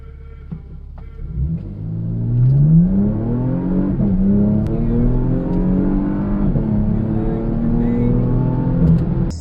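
A Porsche Macan engine revs hard under heavy acceleration, its rising tone sweeping upward and holding strong for several seconds, loud and close with no talk.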